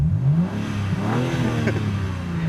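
A BMW G80 M3 xDrive Competition in M mode with its exhaust flaps open revs loudly at close range, the engine note rising and falling in a couple of sharp blips over a steady rumble.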